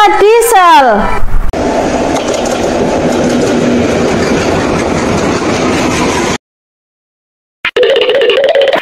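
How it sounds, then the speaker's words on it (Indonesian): A diesel passenger train rolls past at a railway crossing, a loud steady rumble with rail clatter lasting several seconds before cutting off, with a brief voice-like tonal sweep at the start. "Kereta diesel."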